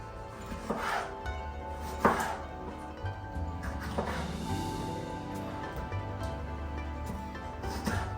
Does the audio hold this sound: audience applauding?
no